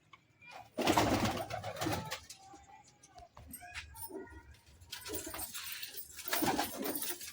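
A pet pigeon being treated for a cold coos in soft low calls, mixed with louder bursts of nearby handling noise and a voice talking over parts of the clip.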